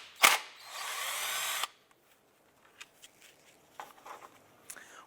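A 10mm bolt on the air box of a 2001-2005 Honda Civic is spun out with a socket and extension: one loud, steady power-driver whir of about a second and a half, then quiet metallic clicks and light rattles.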